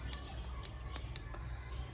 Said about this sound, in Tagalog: Kasi gilid lang atong guntingan kay para hindi na maghapon.